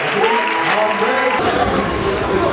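A wedding congregation applauds and cheers in praise, with sustained clapping and crowd noise filling the space, loud and continuous, with voices rising beneath it.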